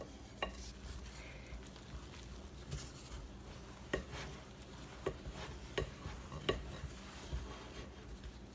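Spoon tip stirs quick bread dough in a bowl, giving soft sticky scrapes and several sharp clicks and taps against the bowl at irregular intervals, close and fairly quiet.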